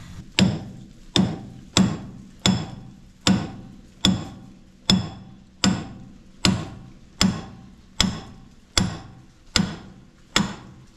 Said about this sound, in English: we're going to drive this pin straight through this way